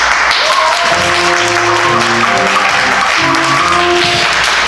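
A theater audience at a Villagers Theater musical production gives sustained, dense applause, loud and close throughout, with a music-like tonal layer running beneath the clapping.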